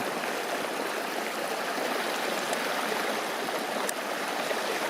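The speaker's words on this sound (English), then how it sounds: "The water looks like it's flowing through those rocks." Water streams over rocks along a trail, a steady, dense rushing and gurgling that holds at an even level throughout, with no voices.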